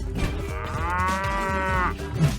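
A single cow lets out one long, loud, close moo that swells and holds before trailing off.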